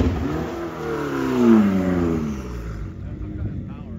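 A car engine revs hard on a dyno, its pitch rising then sagging and stuttering as power is cut and the car drops into limp mode; loud and close, with voices speaking over it.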